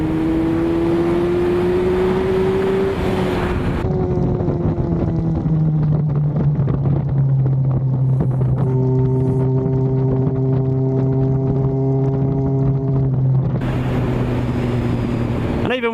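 A Honda Blade motorcycle fitted with an A16 exhaust pulls hard in sixth gear, a loud close engine drone rising in pitch, easing, then climbing again, with wind buffeting and a rider talking over it.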